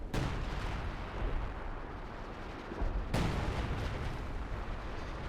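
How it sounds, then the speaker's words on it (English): A searing artillery barrage strikes in Company of Heroes 2 as two heavy, loud explosive blasts roughly three seconds apart, each trailing off into a long rumbling decay. "Whoa, searing artillery"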